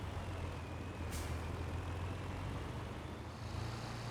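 A truck backs up over a bridge in Farming Simulator 22, its engine a steady low rumble with a brief hiss of air brakes near the start, loud and continuous.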